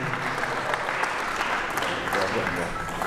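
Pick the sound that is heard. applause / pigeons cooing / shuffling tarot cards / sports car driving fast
applause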